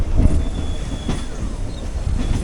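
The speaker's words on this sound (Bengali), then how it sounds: "ট্রেনটা ঘুরে যাচ্ছে এটা কসবাসে ঘুরে যাচ্ছে" A Sealdah–Budge Budge local train rolls and curves near Kolkata, with heavy rumbling wheels, rhythmic clatter and a thin wheel squeal, loud and close.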